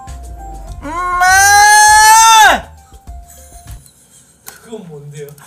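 A single long, wavering goat-like bleat, loud and close, rises and holds for under two seconds, likely a person imitating a goat call in the countryside. Brief quieter vocal sounds follow afterward.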